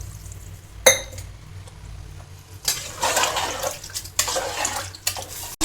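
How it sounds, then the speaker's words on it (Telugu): Two glasses of water are poured into a pressure cooker holding boti curry, giving two splashing pours after an early metallic clink, close and fairly loud. "నీళ్ళు ఒక రెండు గ్లాసుల నీళ్ళు వేసుకోరు"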